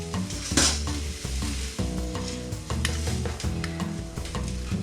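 Ginger and sauce stirred in a hot pan, a steady sizzle of frying with scraping and light clinks from the utensil against the pan, continuous and close, with no talk.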